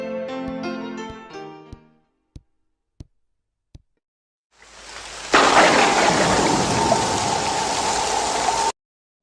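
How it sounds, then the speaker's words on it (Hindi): Heavy rain pours down outside, a dense, steady roar that bursts in loud and close after a brief lull with a few sharp knocks, then continues unbroken to the end. "बाहर क्या बारिश हो रही है?"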